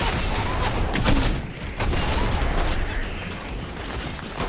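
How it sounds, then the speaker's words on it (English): A snowball launcher firing in Fortnite, a quick series of thumping launches and impacts over a dense, noisy game background. "Let's kill him with the snowball launcher."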